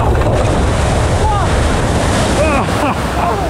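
A flume ride boat at Walibi Rhône-Alpes rushes through water, loud continuous splashing and surging water with heavy wind buffeting the microphone throughout.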